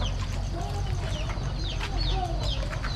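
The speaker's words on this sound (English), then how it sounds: "Chickens everywhere." Several chickens cluck and chatter nearby in a Hmong village in Laos, with short overlapping calls over a steady low background hum.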